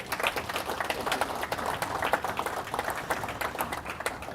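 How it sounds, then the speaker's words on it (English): Warm applause from a conference audience at a First Nations carbon summit as a speaker is welcomed, a sustained patter of many hands clapping throughout. "So please give a warm applause to Jason."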